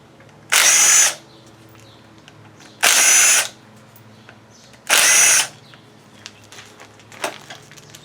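Power tool spinning out the oil pump bolts on a 2007 Chevy 5.3 V8 engine during a rebuild, three loud, close bursts of about half a second each separated by quiet pauses, with faint clicks afterward.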